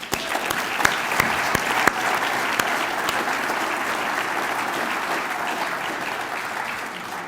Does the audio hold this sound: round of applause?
yes